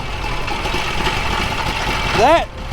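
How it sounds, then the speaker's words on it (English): A small three-cylinder motorcycle engine in a tiny Berkeley car runs at a steady idle with a throaty rumble; a voice briefly cuts in near the end. "is an old motorcycle engine, and it's a triple"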